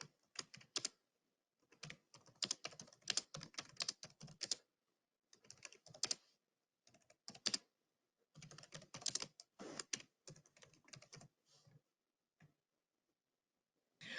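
Bursts of close computer keyboard typing, rapid clattering keystrokes in several runs separated by short pauses, with no talk.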